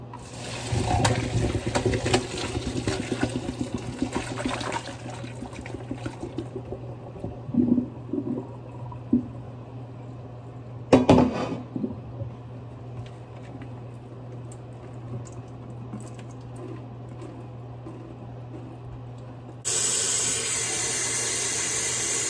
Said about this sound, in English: But first I need to drain the noodles.